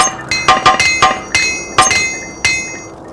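Metallic hammer strikes ring out during armor repair in the Morrowind video game, roughly eight sharp clanging blows in an uneven rhythm, loud and close, each leaving a short bright ring.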